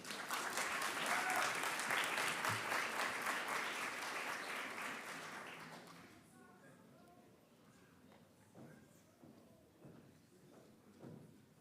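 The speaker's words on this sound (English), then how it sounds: "let's have another big round of applause for our 2025 graduating Master of Science in Accounting students" Applause for graduating Master of Science in Accounting students at a 2025 hooding ceremony, a loud sustained clapping crowd that fades over several seconds into scattered claps and a quiet room.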